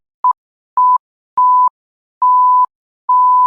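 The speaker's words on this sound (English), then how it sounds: "That's gonna be one long beep." A series of five pure mid-pitched censor bleeps, each held a little longer than the one before, with silence between them and no voices.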